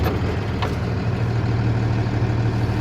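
The chassis engine of a Bucher V65t street sweeper idles steadily in a low, even drone, with a faint brief clatter early on and no talk.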